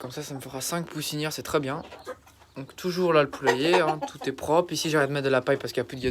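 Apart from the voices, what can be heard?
None of the usual background noises is heard.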